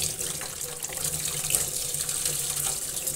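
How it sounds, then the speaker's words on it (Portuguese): Water runs steadily from a tap into a sink, a continuous close hiss and splash that holds at an even level throughout, with no voices. "tá indo água até no celular"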